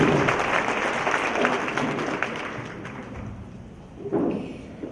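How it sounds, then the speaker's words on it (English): A community event audience claps for donors, the applause fairly soft and diffuse with a few thumping sounds and a brief swell near the end. "Can we please give a big round of applause for those who made today happen"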